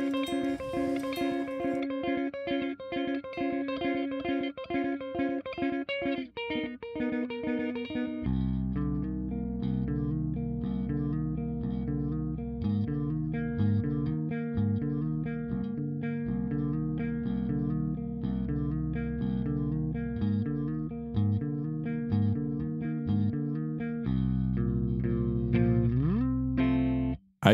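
An electric guitar runs through the Berry Amp amp-simulator plugin on its clean channel, playing chords and riffs with a heavy low-end chug, sounding effected and somewhat driven, steady and loud with no talking.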